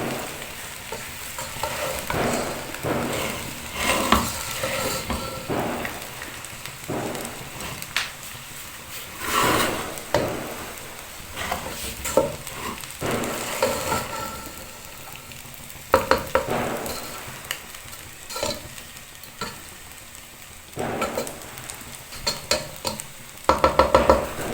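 A metal spoon repeatedly scrapes and stirs fish pieces into fried rice in a hot pan. The scraping comes in steady, close strokes over a constant sizzle of frying, with no talk.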